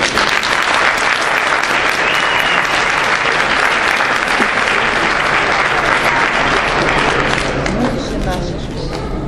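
An audience applauding to welcome athletes at an Austrian championship with combat bouts, loud sustained clapping from a crowd in a hall that thins slightly at the end, with a voice faintly under it.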